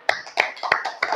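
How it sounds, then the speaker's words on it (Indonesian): A school class clapping hands in a classroom: several sharp group claps at a steady rhythm, fairly close and loud, with no talk. "Oke, tepuk tangan dulu."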